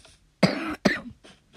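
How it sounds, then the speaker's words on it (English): Two sharp coughs in quick succession, close and fairly loud, followed by a couple of softer breathy exhalations. "Sorry if I cough a lot."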